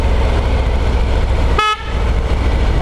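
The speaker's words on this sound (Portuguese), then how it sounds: "a buzina é boa." A single short toot of a 2020 Harley-Davidson Road Glide motorcycle horn sounds close by over a constant loud rumble of engine and wind noise.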